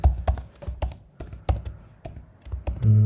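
Code is typed on a computer keyboard in quick, uneven bursts of close, crisp key clicks, with heavier thumps on some strokes and a louder keypress at the end.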